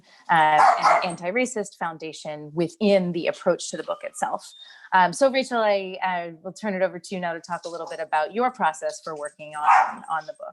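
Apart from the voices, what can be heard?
dog barking in the background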